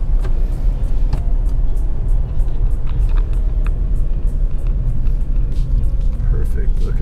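Subaru BRZ with a manual gearbox driving in second gear, a steady low engine and road rumble heard from inside the cabin, continuous and fairly loud, with occasional light clicks and rattles.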